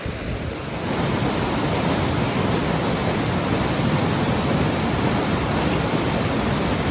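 A creek runs heavily after a flood, its water over rocks and bedrock making a loud, steady, broadband rush close by with no talk.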